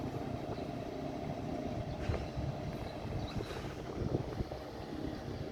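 A ferry boat on the Sungai Ayak approaches its dock, a low steady engine rumble and churning water held throughout with faint wind, occasional knocks and scrapes rising briefly over the drone.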